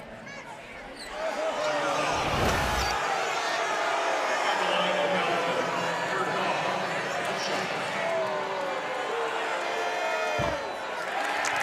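A basketball arena crowd at an NCAA men's game swells into a sustained roar and cheering, broad and steady, with sneaker squeaks and ball bounces, while commentators talk throughout.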